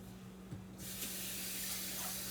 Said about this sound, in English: I'm going to step away now and wash this rice.